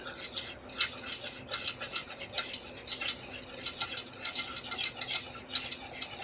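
A utensil stirs wing sauce made with Frank's Red Hot in a pot, producing quiet, steady clinks and scrapes against the metal in a quick, uneven rhythm, heard close and alone.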